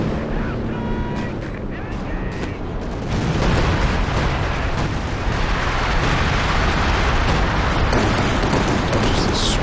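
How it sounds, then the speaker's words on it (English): A zeroing artillery barrage in Company of Heroes 2, a 3v3 match, pounds away with dense, overlapping booms and blasts that swell louder midway and keep rumbling, while a voice comments over the barrage. "we've got zeroing artillery up"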